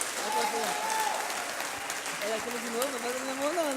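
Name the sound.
church congregation applauding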